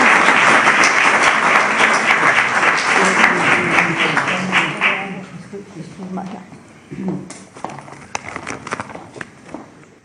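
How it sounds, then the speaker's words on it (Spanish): Loud audience applause greets Estrella Borja at a Romani anniversary gathering, fading after about five seconds into scattered claps, shuffling and murmured voices. "Estrella Borja, vamos a darle un aplauso a ella."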